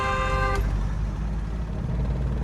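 Long, steady car horn blast held for about half a second, loud and close, then cut off, leaving low rumbling road traffic on a narrow lane meeting a main road.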